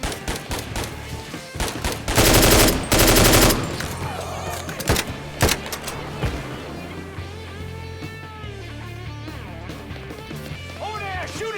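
Rapid bursts of automatic gunfire from the Mafia III video game, with a loud dense volley of shots partway through and scattered single shots after it, all mixed with game music and shouting voices.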